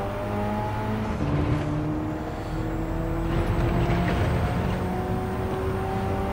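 An Alfa Romeo 4C engine in Gran Turismo 7 drones steadily with shifting tones as the car drives and slides, rising and falling in pitch, fairly close and continuous with no talking.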